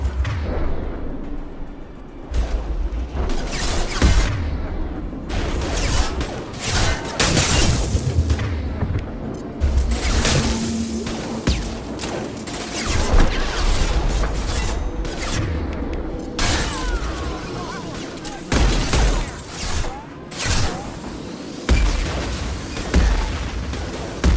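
Heavy gunfire and repeated explosions in Mass Effect 2 on Insanity difficulty, with dense booming blasts and rapid shots continuing loudly throughout in a chaotic, sustained firefight.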